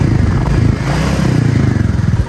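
Royal Enfield motorcycle engine running close by, a loud, steady low thumping throb with slight revving, heard alone with no talk.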